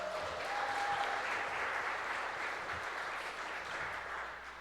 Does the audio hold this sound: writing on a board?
no